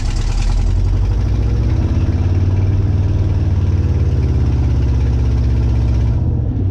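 A 1977 Chevy K20 truck engine idles roughly and keeps sagging as if about to stall, a loud, close, steady low rumble that fades away at the very end.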